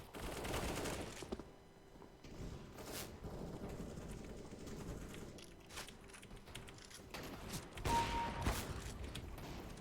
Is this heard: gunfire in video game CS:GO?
yes